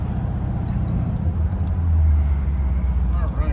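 Low engine rumble from a 1964 Corvette Stingray with a 327 V8 on a road test drive, a steady close drone that swells slightly midway, with faint road noise throughout.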